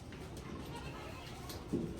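Baby goats being dewormed on a farm, with a single short bleat rising near the end over steady low background noise.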